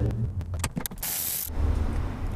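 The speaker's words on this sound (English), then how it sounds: "we're gonna go after these 12 millimeter bolts that hold on this surround here" A ratchet loosening the bolts that hold the center console surround in a 1996-98 Toyota 4Runner, giving quick mechanical clicking bursts followed by a longer rasping spin, close and fairly loud in a cabin.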